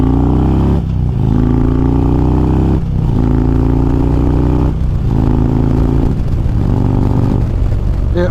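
Harley-Davidson Road Glide Special motorcycle cruising along, its loud, close engine droning steadily while the pitch climbs and dips through several gear changes.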